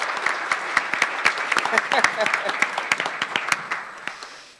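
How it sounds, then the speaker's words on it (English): Applause from an audience for uniformed military panelists at a financial fitness forum, many hands clapping in a dense, sustained burst that tapers off toward the end, with a voice faintly audible underneath. "how about a round of applause for these great men and women in uniform?"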